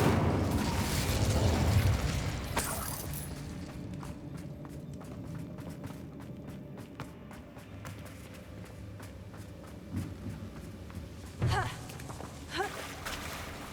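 Incendio fire spell cast in Hogwarts Legacy, a loud fiery whoosh and burst at the start, followed by a lower rumbling stretch with scattered sharp pops and small bursts later on.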